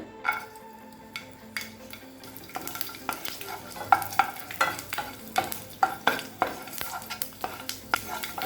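Ten garlic cloves frying in a pan, a soft sizzle under repeated stirring scrapes and clacks of a utensil against the pan that grow busier and more rhythmic toward the end, close and without talk.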